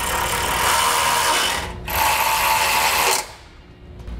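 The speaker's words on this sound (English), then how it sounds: "we can come back with that 10mm socket and tighten up all the bolts" A power ratchet with a 10mm socket tightens bolts while a Blue Ox base plate kit is fitted to a 2017 Subaru Forester, sounding as close, loud mechanical whirring bursts with a brief pause, then fading to quiet.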